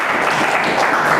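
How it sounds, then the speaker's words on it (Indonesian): Loud, close applause from a classroom for a student group that has just presented, a continuous busy patter of clapping hands through the whole short moment. "Jadi tadi kelompok 1 diberi tepuk tangan ya."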